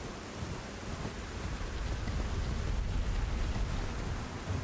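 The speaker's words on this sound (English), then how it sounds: "This is an environment where it's always fucking raining." Steady, dense rain pours in the Elden Ring video game world, a continuous full-band hiss with low rumbling undertones that swells slightly midway, loud and unbroken with no talking.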